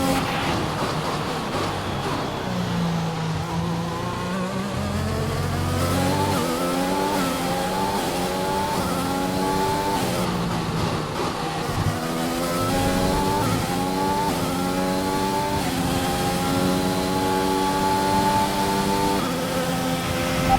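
A Formula 1 car in the video game F1 2021 Braking Point story mode laps at full pace. Its high engine note climbs through the gears, drops at each shift and rises again. The sound stays loud and close, with faint tyre noise.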